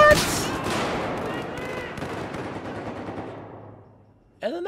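Video game gunfire in Battlefield 4: a loud, sharp blast at the start rolls into a long, fading echo that dies away over several seconds, followed by a short clatter at the very end.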